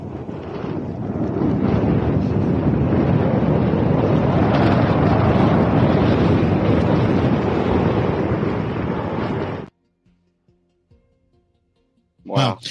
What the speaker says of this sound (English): So it's pretty windy out there.